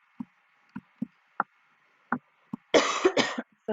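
A person clears their throat several times in short, separate bursts, then gives a longer, rougher rasp near the end, close and alone with no talk.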